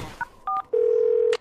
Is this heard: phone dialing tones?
yes